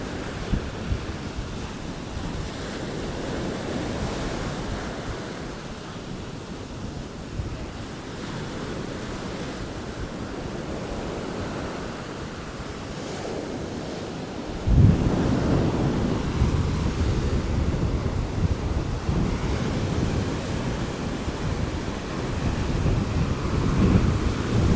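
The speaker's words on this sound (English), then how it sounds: "That wind is wild, wild, wild." Strong gusting wind and pounding surf at Mid Beach, Miami, ahead of Hurricane Milton, a continuous roar with heavy wind buffeting on the microphone that grows louder and rougher about halfway through.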